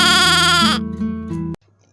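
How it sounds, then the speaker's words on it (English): Goat bleat in a children's alphabet song, a single loud, harmonic, wavering bleat lasting under a second, followed by a short sustained musical tone that cuts off abruptly. "G for goat."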